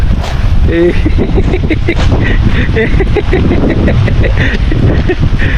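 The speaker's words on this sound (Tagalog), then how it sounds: "Ang lakas na ng hangin." Strong wind roars and gusts continuously close to the microphone at a beach campsite in Lobo, Batangas, with faint voices and shuffling mixed underneath.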